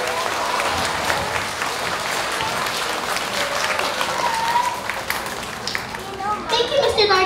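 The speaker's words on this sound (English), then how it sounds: "Let's give our MCs a round of applause." An audience of families and young children applauds at a Pre-K to grade 2 school awards assembly, steady clapping filling a large room for several seconds, with children's voices rising near the end.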